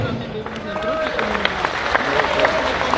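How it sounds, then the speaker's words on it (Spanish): A crowd applauds steadily with dense clapping, mixed with cheering voices and some talk over it. "Ayudarina a nuestro hermano Evo Morales, un fuerte aplauso por su trabajo para el trópico de Cochabamba"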